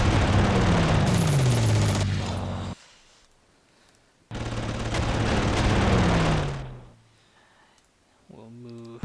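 Stuka dive bomber attack in the Panzer Corps war game: two loud bursts of a descending siren-like whine over dense rattling gunfire and blasts, each cutting off sharply, with quieter gaps between.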